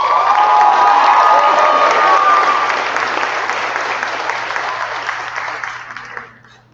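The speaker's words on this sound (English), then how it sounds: "Let's give one more round of applause for the class of" Audience applause at the SASA High School graduation for the class of 2024: a loud, dense crowd clapping with some cheering that gradually fades out near the end.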